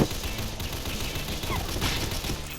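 Sustained automatic gunfire in the zombie shooter Call of Mini Zombies 2, a steady dense rattle of shots running throughout the clip at a fairly even loudness.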